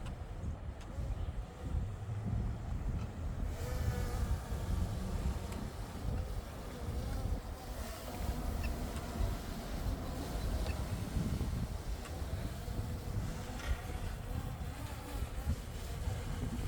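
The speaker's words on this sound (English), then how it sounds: "there's a huge gust of wind here. It's even almost blowing my camera stand down." A strong outdoor wind gust buffets a microphone on a camera stand near a large tree, giving a loud continuous low roar with rushing turbulence for the whole stretch and no speech.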